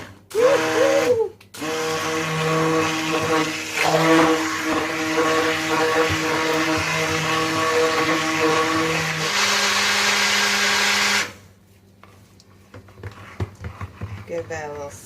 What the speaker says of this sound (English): This is my Brambleberry emulsion stick blender.